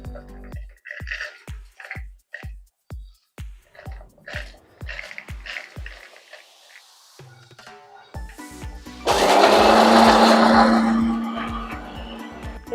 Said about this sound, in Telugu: ఇప్పుడు మిక్సీ జార్లోకి తీసుకొని మిక్సీ పట్టుకోవాలి